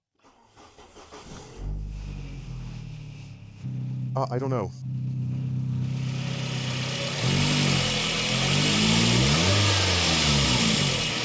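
A cheap $1,000 car's engine cranks and starts up close by, then settles into a steady idle hum, with a brief spoken remark early on.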